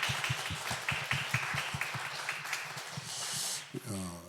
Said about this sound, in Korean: 우리 서로에게 한번 격려의 박수를.